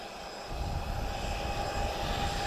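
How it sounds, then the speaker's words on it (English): Azores Airlines (SATA) Airbus A320 departing at an air show in Portugal, a steady jet engine roar with a high whine, rising in loudness after a moment and holding strong. "the next highlight for me is going to be the departure of the A320 of Azores"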